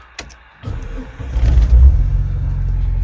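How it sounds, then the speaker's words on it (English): A 4-cylinder Jeep engine with a performance muffler is started: a click and brief starter crank, then the engine catches and settles into a loud, deep, steady rumbling idle close by. "Let me start the car up."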